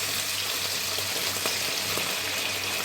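White wine is poured into a pot of clams, a steady hiss and sizzle of liquid hitting the hot pan, close and continuous with no talk.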